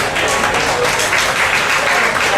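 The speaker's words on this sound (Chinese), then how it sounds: "所以我们也拍手来谢谢江南教会" An audience at a church gospel dinner claps together, a dense, loud burst of applause that holds steady for a couple of seconds.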